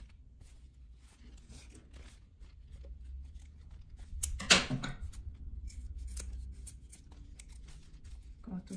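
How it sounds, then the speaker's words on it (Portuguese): Scissors snip through excess denim fabric from jeans scraps, with a series of crisp cuts and one louder chopping burst midway, while someone talks quietly over the work. "Vamos cortar o excesso."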